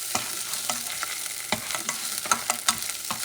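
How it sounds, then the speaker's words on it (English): Cuban white beans being stirred in a hot pot with tomato sauce, a soft continuous sizzle broken by irregular scraping spoon strokes, close and fairly quiet with no talking. "you're going to stir everything together"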